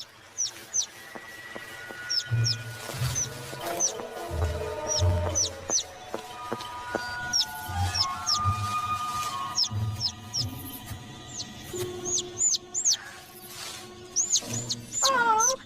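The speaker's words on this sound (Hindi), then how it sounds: "एक नन्हा सा पंछी।" Small cartoon bird chirping in an animated children's story, repeated quick high tweets scattered throughout over soft background music and low sounds.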